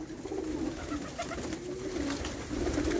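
Mixed breeds of pigeons, including Hungarian birds, coo inside a pigeon loft, a steady string of soft, rolling calls heard up close with no one talking.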